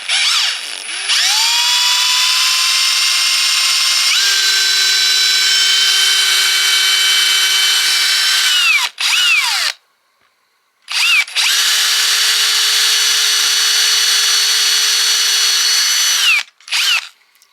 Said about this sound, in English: Those shanked drill bits are crummy.